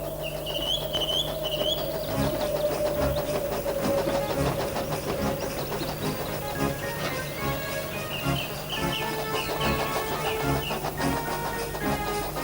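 Thomas the Tank Engine, a steam engine, racing back along the line: rhythmic chuffing beats over a steady rolling rumble with a sustained whistle-like tone and bright squeals, continuous at moderate loudness.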